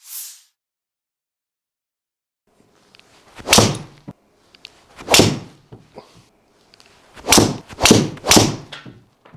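Tour Edge Exotics 725 golf driver striking balls: five sharp, loud impact cracks spaced a second or two apart, after a brief quiet start.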